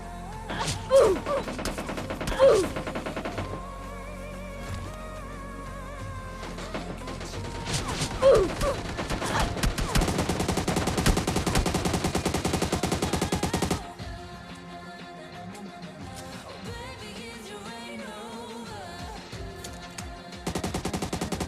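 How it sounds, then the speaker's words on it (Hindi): Gunfire in the PUBG battle royale game, with repeated sharp shots and bursts through the first half among game music and effects, then the firing drops away to a quieter game soundtrack. "तब से देखो कैसे ये लोग पीछे कैंप करके लेट के मेरे ऊपर फायर करते हैं।"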